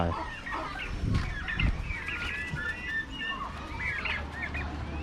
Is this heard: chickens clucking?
yes